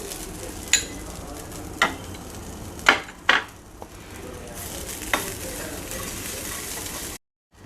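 Tamarind, sesame, coconut, cinnamon and cloves dry-roasting in a pan, a dry crackling hiss with several sharp scrapes and clinks of a spoon against the pan, close and fairly loud, no talk.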